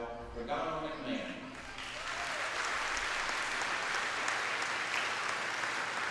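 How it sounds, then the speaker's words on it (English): Applause from a crowd at a high school Hall of Fame induction held during a basketball game, with a few voices at first, then steady clapping that swells and continues at a moderate, distant level. "Please join me in a nice round of applause for all of our inductees and new Hall of Fame induction members, Tony"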